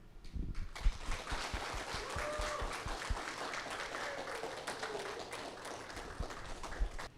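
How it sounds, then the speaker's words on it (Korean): An audience on a Korean talk show applauds to welcome a guest jazz musician, dense and continuous clapping that swells and holds for several seconds with little talk over it. "우리 박수로 맞이하겠습니다"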